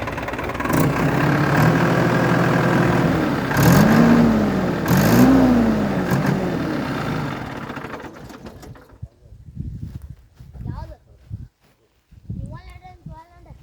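An idling engine is revved twice in quick surges that climb and fall in pitch over a steady rumble. Afterwards it settles into quieter background with voices talking nearby.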